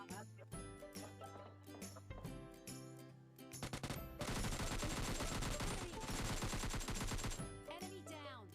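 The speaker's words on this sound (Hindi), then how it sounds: "जो स्टेडियम की साइड गन साउंड आ रहे हैं" Rapid automatic gunfire in the mobile battle-royale game PUBG Mobile Lite, dense repeated shots with a sustained heavy burst near the middle, fairly faint overall with game effects around it.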